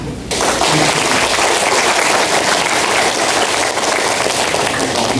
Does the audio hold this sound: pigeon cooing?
no